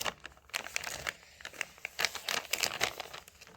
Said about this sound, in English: So I'm just going to try to get it open with these scissors.